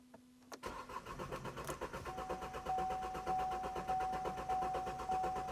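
A farm car's engine cranks and catches, then settles into a steady, slightly uneven idle with a pulsing rhythm, close and moderately loud with no talking.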